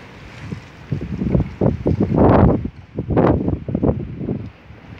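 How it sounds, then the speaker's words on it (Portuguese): Light, gusty wind during Hurricane Leslie in Viseu buffets an outdoor microphone, rising and falling in uneven rumbling bursts with no voices. "Mas ainda assim o vento não tá forte ainda. Tá um vento fraco."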